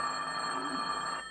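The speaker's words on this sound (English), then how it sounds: "Just before noon, Madison High's principal was busy at his desk when his phone rang." A telephone on a high school principal's desk rings in a radio comedy, a steady, fairly faint electric bell trilling alone for just over a second.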